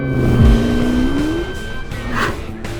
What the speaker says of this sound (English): while I go and get some heat into the tyres